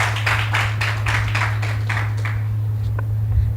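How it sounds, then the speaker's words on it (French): Studio audience at a Beninese television broadcast applauding, a run of rhythmic clapping over a steady low hum that fades after about two seconds into quiet room tone. "Mais on peut s'applaudir."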